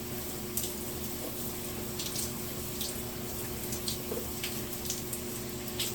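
Running water rinses shampoo out of fine hair, a steady close hiss and splash of flowing water with small irregular spatters and no talking.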